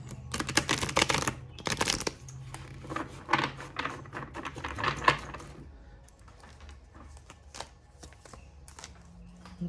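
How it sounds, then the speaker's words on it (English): Druid Craft tarot cards being shuffled by hand, with dense riffling bursts in the first few seconds, then scattered soft card taps and slides, close and fairly loud. "One more quick little shuffle here."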